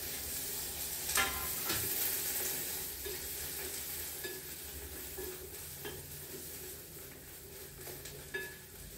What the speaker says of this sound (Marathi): मक्याचे उकडलेले थोडेसे दाणे ठेवलेले आहेत ते त्यात घालून घेते